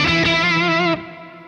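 A loud, thick electric guitar chord with a doubled, synthetic octave tone from a BOSS OC-5 octave pedal is struck and then cut short, leaving a quieter ringing tail.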